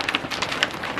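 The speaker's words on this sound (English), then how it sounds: "It's pouring down hail, guys." Hail pouring down outdoors, a dense steady patter of small impacts with a few sharper close hits.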